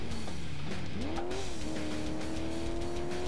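A car engine in the video game Alarm für Cobra 11 Highway Nights whines and strains as it revs, its pitch sliding down and climbing again in a steady, synthetic-sounding drone.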